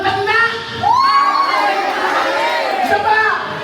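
A crowd of seniors at a gathering shouting together in unison, a loud sustained roar of many voices with a swell after the first second and rising cries near the end.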